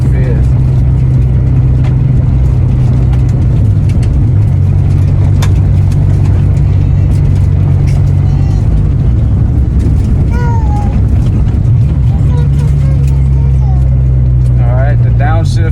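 A car engine drones loudly and close up while gears are shifted through a K-tuned B/D v3 shifter. The engine pitch rises and drops with each change, under a constant cabin rumble.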